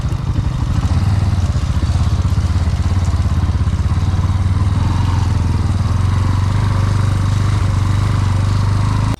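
A motorcycle engine runs steadily and loudly at close range during off-road riding in rough terrain near a waterfall in Bongaigaon, a continuous low rumble with clattering texture and no speech.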